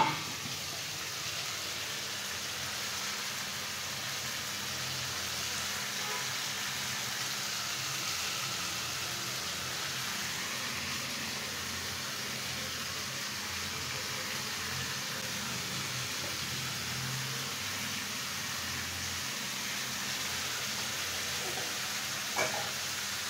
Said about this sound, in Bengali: খুব সুন্দর করে চিকেনটাকে কষিয়ে নেব।